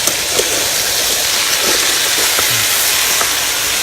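Chicken frying in a pot for a Shan-style dish gives a loud, continuous sizzle and hiss, with small popping crackles scattered through it.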